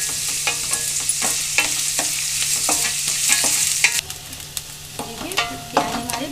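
Onions fry in a pan with a steady close sizzle while a spoon stirs them, making repeated scraping clicks and knocks throughout.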